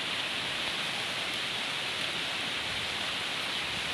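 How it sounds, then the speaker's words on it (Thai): Sarika waterfall in Nakhon Nayok, Thailand, in the rainy season sends out a steady, dense roar of falling water that fills the whole stretch evenly, with no voices. "นี่ครับน้ำตกสาลิกา"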